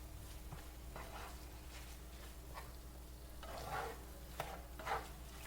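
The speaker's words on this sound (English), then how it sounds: "You're going to keep stirring until it's all getting ready, melting down, and it's all mixed in." Mushrooms with sausage and cream cheese get stirred in a pan, a soft continuous sizzle under several scraping, squelching strokes of the spoon, with two sharper knocks near the end, quiet and close.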